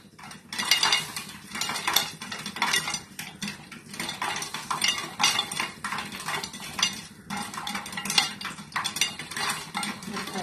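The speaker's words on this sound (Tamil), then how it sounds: "கார்ன் நல்லா பொரியுது." Corn kernels bursting inside a pressure cooker on a high flame. A dense, continuous stream of rattling pops knocks against the metal pot, close and steady with no pauses.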